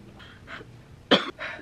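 Someone recovering from choking on spit gives a few short breathy coughs and throat-clearing sounds up close, with one sharper, louder cough in the middle.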